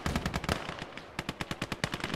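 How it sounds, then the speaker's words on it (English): Machine-gun bursts from a BT-2 strafing infantry in the Gates of Hell: Ostfront strategy game, a dense stream of sharp rapid shots, then a pause, then separate spaced loud cracks in quick rhythm. "BT-2 coming in with his machine guns, trying to strafe off some of these guys."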